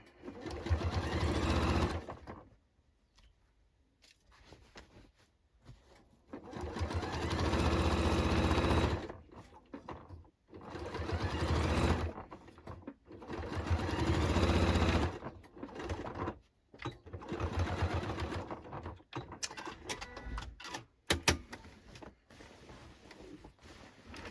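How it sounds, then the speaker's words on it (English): A sewing machine stitches down the side seam of a denim jacket in several loud, close bursts of rapid whirring, separated by short quiet pauses as the fabric is adjusted. "Here we go, down the second side seam."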